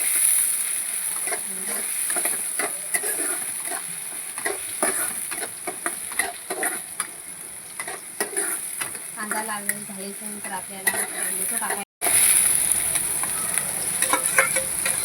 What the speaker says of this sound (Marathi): आपल्याला कांदा टाकून घ्यायचा आहे कांदा लाल करून घ्यायचा आहे